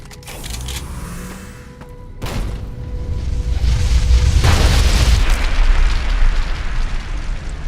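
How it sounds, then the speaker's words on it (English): A grenade goes off in a Fallout video game, a loud booming blast that swells into a long rumbling roar and keeps going for several seconds. "Grenade!"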